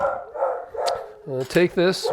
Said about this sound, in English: Somebody's walking by the house.